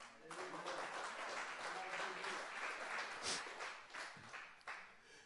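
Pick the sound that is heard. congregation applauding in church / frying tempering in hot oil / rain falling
congregation applauding in church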